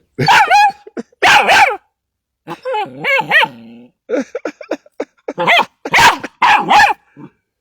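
A dog barks and growls in loud, close bursts, several sharp yaps followed by throaty grumbling vocalizations spread across the clip, with no talk over them.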